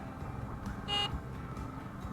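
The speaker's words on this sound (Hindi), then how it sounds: "अभी मैंने इंडिकेटर बंद करने की कोशिश की और मुझसे हॉर्न प्रेस हो गया।" A Honda CB350 RS motorcycle horn sounds in one short, accidental beep under steady road and engine noise while riding.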